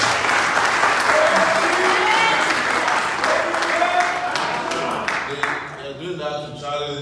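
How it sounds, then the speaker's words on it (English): A fundraiser audience in Chicago applauds visiting donors from Wisconsin with steady, dense clapping that fills the room, loud and sustained before gradually thinning out toward the end. "You have to give them a round of applause."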